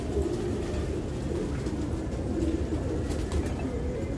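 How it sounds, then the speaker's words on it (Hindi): Pigeons during a pigeon-flying contest near Delhi, with soft repeated cooing over a constant low outdoor rumble of wind and distant background noise. "ये आए तीन कबूतर अलग से।"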